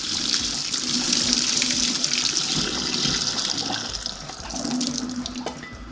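Hot black-eyed pea cooking liquid from a pressure-cooker pot liner pours into a small strainer, a steady, loud rushing splash of liquid that runs continuously and swells again near the end, with no talk.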